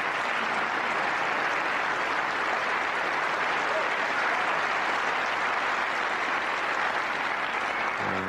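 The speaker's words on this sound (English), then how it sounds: "And well deserving that round of applause" Sustained round of audience applause filling a snooker arena at the 1991 Benson and Hedges Masters final, Stephen Hendry versus Mike Hallett, steady and dense throughout with no speech over it.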